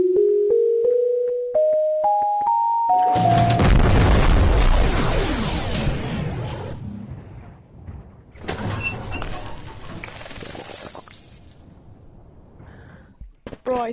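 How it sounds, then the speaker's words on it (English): A nuclear bomb goes off in the VR game Animal Company: a rising series of warning tones gives way to a massive roaring blast with crackling debris that fades over several seconds, followed by a brief louder rumble later. "A nuclear bomb went off in there."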